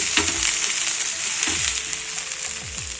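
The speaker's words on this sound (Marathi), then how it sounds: "या पद्धतीने डोसा छान खमंग परतून घ्यायचा" A barnyard millet dosa fries on an oiled griddle with a loud, continuous hiss and crackle, broken by a few low knocks and scrapes of a spatula close by.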